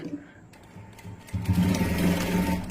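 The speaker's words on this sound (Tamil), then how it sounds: "ஸோ இது மிஷினில் ஸ்டிச் பண்ணுறது பார்ப்போம்" Sewing machine stitching the hem of a blouse, a steady mechanical whirr that starts softly and grows louder and denser midway, running continuously with no talking over it.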